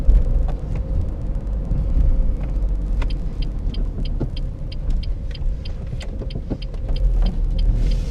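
Renault Megane dCi 85 diesel (2006 Expression) heard from inside while driving, a steady low engine drone and road rumble with a faint repeating ticking over it, no talk.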